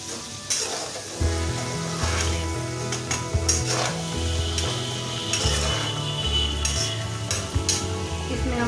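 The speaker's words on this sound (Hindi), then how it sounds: "अब हम इसमें शिमला मिर्च डालेंगे और इसको अच्छी तरह से 2 मिनट मज़ीद भून लेंगे" Capsicum and mixed vegetables for pulao fry in a pan, giving a steady sizzle broken by scraping stirs and light clinks of utensil on metal, with a rhythmic background tune running underneath.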